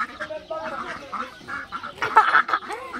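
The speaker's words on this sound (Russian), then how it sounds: "Утки едят салат." Ducks at the zoo in Nicosia, Cyprus, feeding on lettuce, give a run of nasal quacks and honks close by, with a soft voice murmuring faintly underneath.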